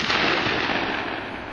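A shotgun fired at a clay skeet target on an outdoor range: one loud, wide blast whose roar fills the opening and fades slowly across the open air, with no talking.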